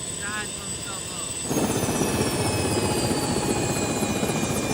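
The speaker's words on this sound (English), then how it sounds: "One thing about this helicopter, the blades sound, they definitely sound cooler than Consuela." A helicopter's rotor blades thump in a fast, steady beat that grows suddenly louder and closer partway through, with a high turbine whine running above the chop.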